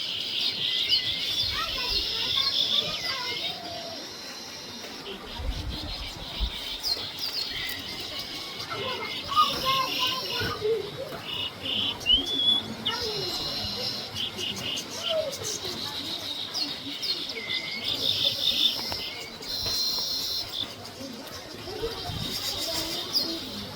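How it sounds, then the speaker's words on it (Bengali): Small weaver birds chirp repeatedly around their hanging nests in a coconut tree, a steady mix of high twittering calls close by, with occasional cooing in the background and a voice speaking at times. "এই যে পাখিগুলো উড়াউড়ি করতেছে"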